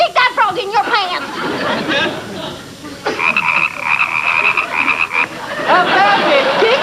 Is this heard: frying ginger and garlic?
no